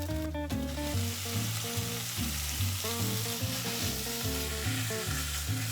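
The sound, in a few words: beef stir-frying in green chili paste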